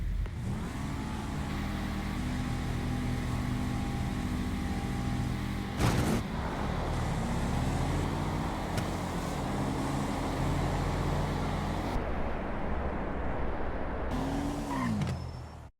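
Drag race cars, the Murder Nova and the Rapid GT, launching at a Street Outlaws No Prep Kings event, with loud sustained engine roar and rising revs, a sharp crack midway and a final surge before cutting off.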